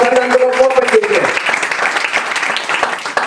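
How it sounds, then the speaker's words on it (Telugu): A church congregation claps for Jesus during a Christmas service, a brief burst of applause rising as a voice fades out and continuing densely to the end. "ఏసే క్లాప్స్ కొనండి, ఏసే క్లాప్స్ కొనండి."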